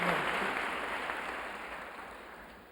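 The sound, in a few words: audience clapping after a lecture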